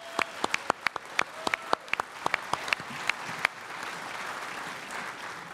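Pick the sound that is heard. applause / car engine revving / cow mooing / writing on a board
applause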